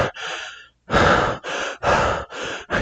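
A person imitates a tired dog's panting, giving a long breath, a pause, then four quick, loud, rhythmic huffs heard close up and alone.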